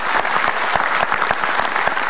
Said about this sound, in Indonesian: Baik, kita kasih tepuk tangan untuk Mas Tama.